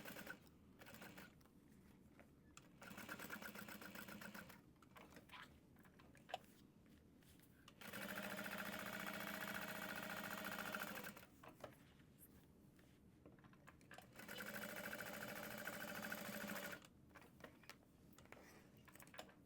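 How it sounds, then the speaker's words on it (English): A sewing machine basts fabric and lining in several bursts of rapid, even stitching, each lasting a few seconds, separated by quieter pauses with small handling noises; fairly close and moderately quiet. "And we'll just baste all the way around to secure it."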